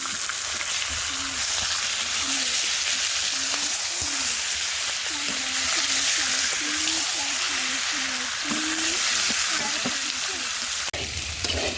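Pieces of meat fry in a spiced masala in a pan, a loud, dense, continuous sizzle close by, with a wavering voice-like tone murmuring faintly beneath it.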